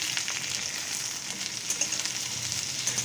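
Chopped onions fry and get stirred in a pan, giving a steady close sizzle with small crackles and soft scraping throughout, and no voices.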